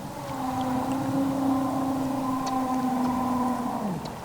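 A humpback whale's low, steady tonal call, picked up underwater by a hydrophone, holds one pitch for several seconds before sliding downward at the end, with a hiss of water noise behind it.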